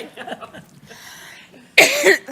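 Faint murmuring gives way to a sudden, loud burst of harsh coughing close to the listener.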